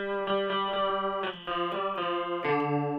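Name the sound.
guitar through a chorus effect pedal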